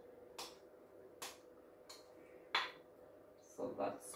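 Butter and sugar go into a mixer bowl in a home kitchen, giving a few quiet, separate clinks and knocks of utensils against the bowl, faint and spaced apart, with soft talk in the room.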